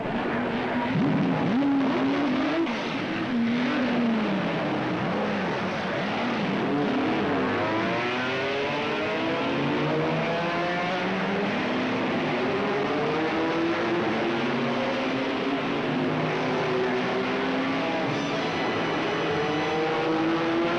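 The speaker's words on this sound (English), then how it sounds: "There it is, the famous LeMans start." Race cars roar away together at a Le Mans start in the famous endurance race, engines revving loudly and sweeping upward in pitch as the pack accelerates, a dense sustained wall of engine noise.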